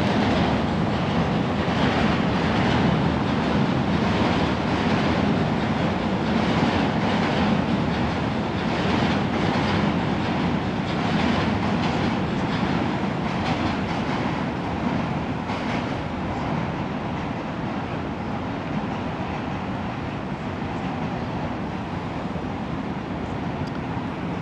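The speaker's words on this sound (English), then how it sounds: "You gotta love that sound of the subway, Robinson." A New York City subway train in Manhattan rumbles loudly and continuously, with rhythmic clickety-clack of wheels over rail joints pulsing through the roar, steady and close for the whole stretch.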